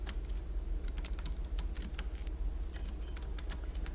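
Close, steady keystrokes on a computer keyboard while CSS code is entered, irregular clicks arriving in quick bursts over a low constant hum, with no voices.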